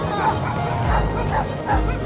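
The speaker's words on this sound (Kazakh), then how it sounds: "Төбеттер жүгіріп келіп, жалмауыз кемпірді талап тастайды" Dogs bark and yip in short bursts, three or four calls spread out, fairly loud and close with some background noise.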